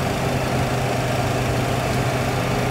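A Boeing 737 stopped on the runway after a landing with one engine failed, its engine noise a loud, steady, unbroken drone with a deep rumble throughout.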